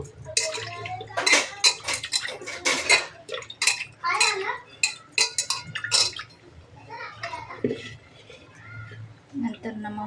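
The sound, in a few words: mashing pav bhaji with a masher in a pan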